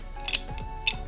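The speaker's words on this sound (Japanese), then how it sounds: "ハサミ。" A pair of scissors from a woman interior finisher's tool bag handled briefly, two or three crisp metallic snips and clicks, close and clear, with no talk over them.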